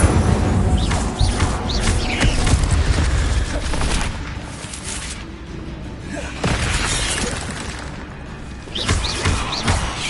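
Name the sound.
Incendio fire spell cast in a Hogwarts video game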